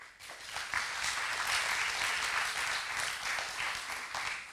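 Audience applause at an ESR label award ceremony, a full, continuous clatter of clapping that swells quickly and holds strong for the whole stretch with no talk over it.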